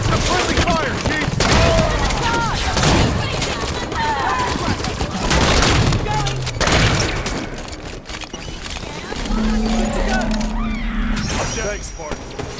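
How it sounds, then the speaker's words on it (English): Gunfire from Halo 5: Guardians, with dense bursts of shots and booming impacts throughout a battle against Elites, mixed with in-game voices, music and effects. "Watch the friendly fire, Chief!"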